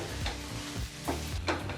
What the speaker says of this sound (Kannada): ನಂತರ ಇದನ್ನು ಒಗ್ಗರಣೆ ಜೊತೆಗೆ ಚೆನ್ನಾಗಿ ಬೆರೆಸ್ಕೋಬೇಕಾಗತ್ತೆ.